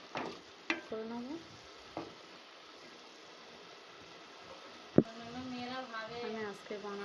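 Grated coconut and sugar fry in a pan while a spatula stirs and scrapes it, giving scattered sharp clacks over a soft sizzle, with a voice talking in between.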